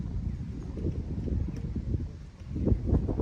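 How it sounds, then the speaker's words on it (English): Gusty outdoor wind rumbling against the microphone, rising and falling steadily with faint rustling in the background. "It's very windy today."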